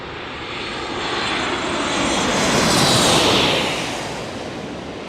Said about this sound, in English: Alaska Airlines landing,